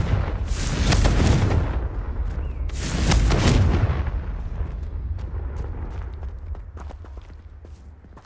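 Confringo blasting spell cast in Hogwarts Legacy, two loud booming bursts about two seconds apart, each followed by a rumbling decay that fades into a low, steady ambient bed.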